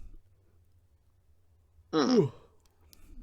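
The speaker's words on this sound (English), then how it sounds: "Bit of a yawn now." A single drawn-out yawn rises and falls for about half a second, close and fairly loud, surrounded by near silence and a low hum.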